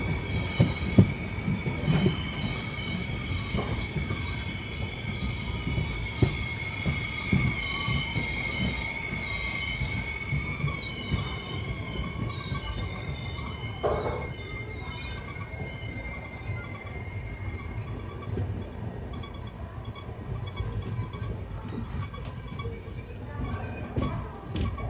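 The 12861 Visakhapatnam to Mahabubnagar Superfast Express races over the rails at speed, with a continuous heavy rumble, rhythmic wheel knocks and high sustained wheel squeal riding above the din throughout.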